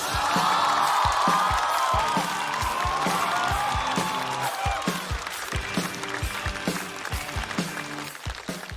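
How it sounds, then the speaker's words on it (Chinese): A large studio audience at a Chinese stand-up comedy competition bursts into sustained applause and cheering as a comedian is welcomed, loud and continuous, with a host's voice calling over it and heavy clapping that eases slightly toward the end. "我们掌声欢迎来自过载喜剧的牛油果"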